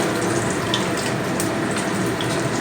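Water pours steadily into a cooking pot of vegetable stalks on the stove, a loud, even, continuous splashing stream held close throughout, with no voices.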